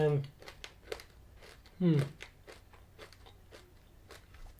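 Crunchy caramel M&Ms are bitten and chewed close up, with sharp crunching and crackling bites under a voice that talks over them.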